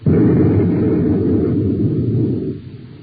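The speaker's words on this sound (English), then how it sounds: "you'll hear news that'll rock this planet like an explosion. Watch out. Here it comes." Explosion sound effect in a vintage radio advertisement: a loud, deep rumbling blast that starts abruptly, roars steadily for over two seconds, then drops away into a fading tail, with no voices over it.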